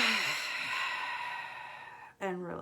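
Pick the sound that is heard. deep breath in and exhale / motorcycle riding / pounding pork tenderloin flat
deep breath in and exhale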